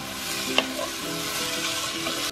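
Onions and vegetables frying in a pan while being stirred for Chinese fried rice with shrimp, a continuous sizzle with a sharp utensil knock near the start and soft scraping strokes.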